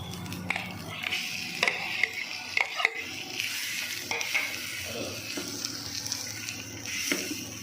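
Boiled potatoes are stirred into a frying spice mixture for bread pakora, giving a continuous close sizzle with repeated scraping and clacking of the spoon against the pan.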